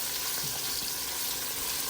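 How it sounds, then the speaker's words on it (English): Hot oil sizzles loudly and without a break in a pan as food is stirred and browned, a dense, even crackle with no voices over it. "Our oil is sizzling, of course."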